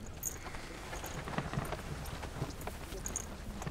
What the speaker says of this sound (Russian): Толковая лошадь.